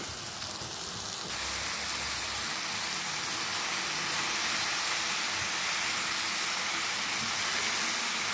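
Thinly chopped ridge gourd cooking with onions in a pan, giving a loud, continuous close hiss of sizzling and steam with no talking.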